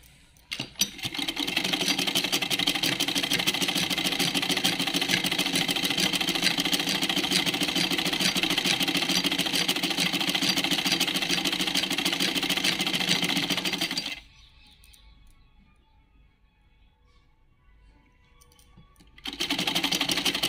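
Sewing machine stitching fabric, a loud, close, steady mechanical whir that runs continuously for about fourteen seconds, stops briefly, then starts again at the end, with no talk.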